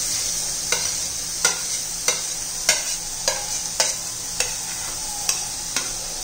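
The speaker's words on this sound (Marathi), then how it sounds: "आता बीटाचा किस घालून घेऊया आपण." Grated beetroot sizzles steadily in a frying pan seasoned with rock salt, while a spoon stirs it in regular scraping strokes about every second, close and moderately loud, with no talking.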